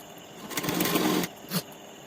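A sewing machine topstitches a panjabi collar in a short close burst of whirring, followed by a brief second spurt.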